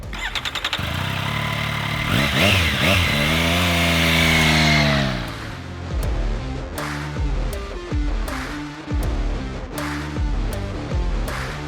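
A Triumph Street Triple RS 765 motorcycle with a three-cylinder engine holds a loud rising rev, then blips the throttle repeatedly in sharp bursts as the engine note climbs and drops, with no talking over it.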